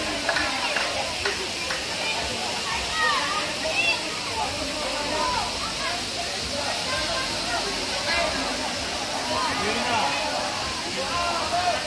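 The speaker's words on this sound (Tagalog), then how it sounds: "So may kawayan doon na may mga tumutulong tubig, ano." Mountain water pours from a bamboo spout at a small waterfall, a continuous close splashing rush with bubbling texture that runs steadily without pause.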